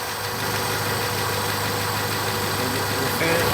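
Cooling fans whir on a running 1995 Acura Integra GS, a steady, unbroken hum blended with the idling engine throughout.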